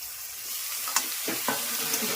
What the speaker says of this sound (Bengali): আর সবজিগুলো একটু ভাজা ভাজা হবে